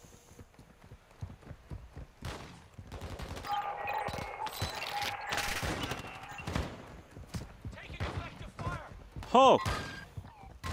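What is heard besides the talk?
shotgun fire in Call of Duty MW DMZ video game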